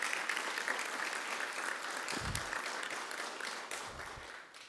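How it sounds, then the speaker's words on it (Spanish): Audience applause at the opening ceremony of the FILAH 2021 book fair, a steady, fairly distant wash of clapping that lasts throughout and fades slightly near the end. "Un aplauso."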